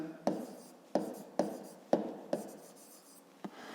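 Handwriting in a maths exercise book, heard as a series of six crisp pen taps and strokes at an uneven rhythm, close and quiet, with no talking.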